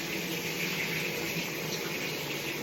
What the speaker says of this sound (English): I just want to rinse off the broccoli rabe because this is not going to take that long